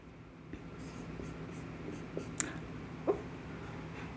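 Faint, scratchy strokes of writing on a board during a maths class, soft and intermittent, with a couple of slightly sharper taps and no speech.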